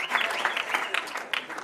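Clapping crowd applauds a bride inside a church at a wedding, a short burst of dense, close applause with a voice speaking over it.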